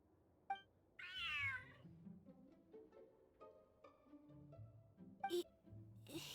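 A cat in the Genshin Impact video game gives a drawn-out meow, followed by a second meow near the end, over soft game music and ambient sounds.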